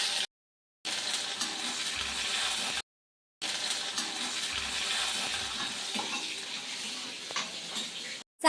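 Ginger and garlic fry in hot coconut oil with mustard seeds, giving a continuous hissing sizzle that cuts out twice and then resumes, close and fairly loud.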